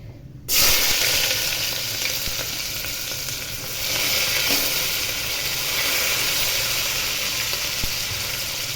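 Finely chopped onions hitting hot oil in a pan with bay leaf for tomato rice, erupting into a loud, close, continuous sizzle that holds steady with a slight swell midway, no talking.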